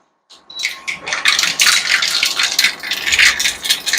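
Mustard seeds drop into hot oil in a kitchen pan and burst into dense, continuous crackling and sputtering, loud and close, with no voices.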